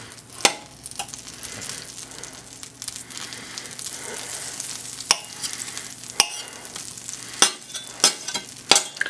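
Butter melts in a pan over medium heat before duck breasts go in, a soft steady sizzle broken by several sharp, loud scraping or clinking hits at irregular intervals.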